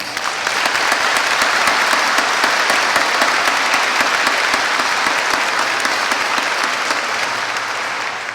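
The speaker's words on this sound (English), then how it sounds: "Let's give them an applause." Audience at a school's 100th anniversary celebration breaks into applause, building quickly into dense, even clapping that holds strong for several seconds before easing slightly at the end.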